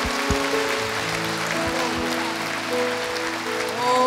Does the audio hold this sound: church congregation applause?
yes